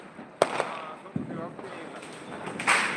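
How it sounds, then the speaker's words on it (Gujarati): Diwali firecrackers go off in a few sharp bursts, one loud crack standing out, with a crackling flurry near the end and voices murmuring throughout. "ફટાકડા ફોડી રહ્યા છે"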